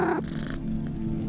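A cat named Quincy gives a short, close meow that fades into a low, soft purr-like rumble, heard alone.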